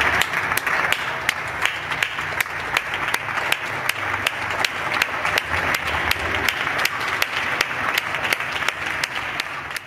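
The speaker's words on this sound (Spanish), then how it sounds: "hoy en el telediario, también desde casa, nos sumamos a ese aplauso" Steady applause and clapping from neighbours at windows and balconies during the 8 pm tribute to carers, joined by a TV newsroom; dense, continuous clapping with sharp individual claps standing out, moderately close and sustained throughout.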